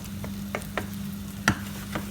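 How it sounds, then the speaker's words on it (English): Onions cook in a pan for a tomato and pepperoni sauce. A soft, steady sizzle carries a few light spoon taps and one sharper clink. Quiet and close, with no voices. "So onions are starting to cook nicely."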